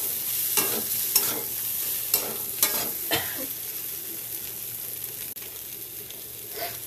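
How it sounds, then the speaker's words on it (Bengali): Turmeric and ground spices, cumin, coriander and garam masala, sizzle in hot oil in a pan for a vegetarian curry, with a steady fry under several sharp scrapes and clinks of a stirring spoon, close up and no talking. "হলুদ দিচ্ছি, দিয়ে ভালো করে ভেজে নিই।"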